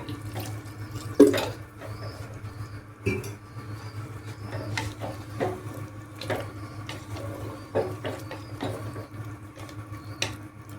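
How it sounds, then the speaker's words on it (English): Water being poured into a pot of soya chunks curry, a steady running and splashing wash with faint clinks of a pan and utensils throughout, no talk. "Add some more water."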